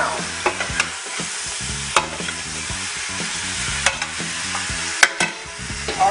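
Oxtail browning in its own juices sizzles loudly in a pot, with repeated scraping stirs and sharp utensil knocks over a continuous frying crackle, near and without speech.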